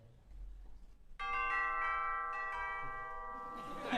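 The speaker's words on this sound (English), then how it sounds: "this year we decided to add some chimes, tubular bells back there." Tubular bells and chimes played in a concert setting, a single clear ringing strike that sustains with bright overlapping tones and a second softer strike partway through, alone after quiet room noise.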